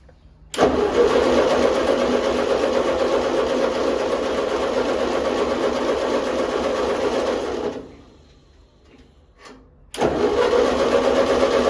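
An old Ford barn-find tractor that had sat unused for 20 years fires up and runs with a loud, rapid mechanical clatter, drops away to near silence for about two seconds, then bursts back to life.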